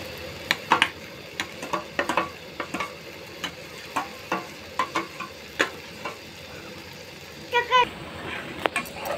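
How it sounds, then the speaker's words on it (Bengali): Spoon strokes scrape and clatter through tomato pickle masala in a pan with tomato paste, repeated in a steady rhythm over a soft sizzle, close and clear, with a brief burst of clinking near the end. "এবারে এটাকে নেড়ে নিচ্ছি।"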